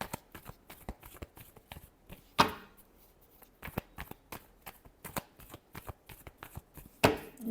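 Tarot cards being shuffled in quick repeated riffles and flicks, close and crisp, with a couple of louder snaps as the deck is squared, no voices.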